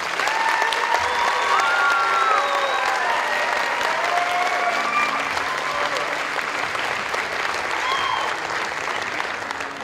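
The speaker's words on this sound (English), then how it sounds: "let's give our graduates a warm round of applause" Graduation ceremony crowd of family and friends at a 2012 Fremont College commencement applauding the graduates, a loud, broad, sustained clapping that tapers slightly near the end.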